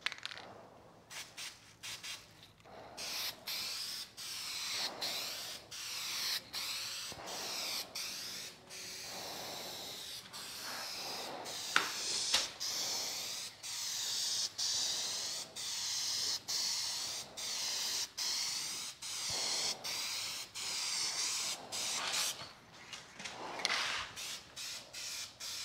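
An aerosol spray paint can coats a car panel in a long run of short, close hissing bursts, each separated by a brief pause, with a few longer passes near the end.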